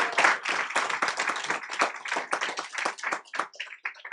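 A school district board meeting audience bursts into a round of applause, dense overlapping hand claps sustained throughout and thinning toward the end.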